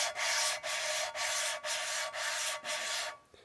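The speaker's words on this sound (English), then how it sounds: "Hear how it's kind of like a hollow grating sound? That means it's cutting." Valve being lapped against its seat in an engine head, a hollow gritty grating in a steady rhythm of about six back-and-forth strokes with brief pauses between, close and fairly loud, then tapering off.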